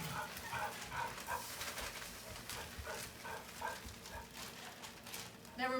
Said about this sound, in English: Never mind my dog. She barks at everything.